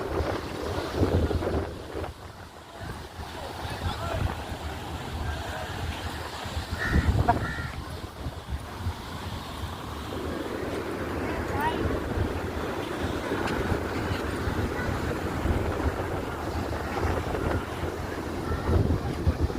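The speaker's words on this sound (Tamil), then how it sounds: "சில்லுன்னு ஒரு ஈர காற்று" Steady cold sea wind at a rocky beach rushes across an open microphone, with a constant low rumble and faint voices mixed into the broad noise throughout.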